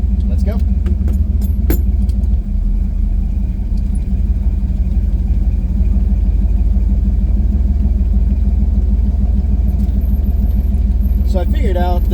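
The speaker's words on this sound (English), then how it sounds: "I love those Black Widow mufflers." Dodge Charger fitted with Black Widow mufflers, its exhaust a steady deep drone heard from inside the car under people talking, with a few sharp clicks and rattles early on.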